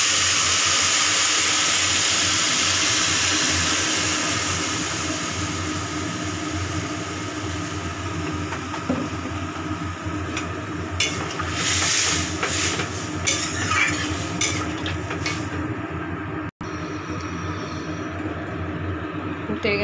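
Hot water poured into simmering fish curry spices in a pan, fried with white and black mustard, salt and turmeric, giving a steady hiss and sizzle that runs throughout at moderate loudness, with some crackling and clatter later on.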